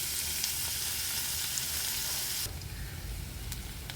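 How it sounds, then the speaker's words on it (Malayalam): Onions sautéing in a pan for ulli theeyal, a constant close frying sizzle that shifts and thickens partway through, as if the onions were stirred, with no voices. "ഉള്ളി അങ്ങനെ വാടിക്കൊണ്ടിരിക്കുന്നു"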